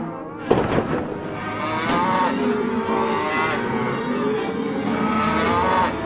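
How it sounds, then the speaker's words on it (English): Cows moo in a field in a children's animated story, long, drawn-out lowing calls across a broad, noisy outdoor background, with a sharp knock near the start. "Mr. Man heard his cows mooing in the field."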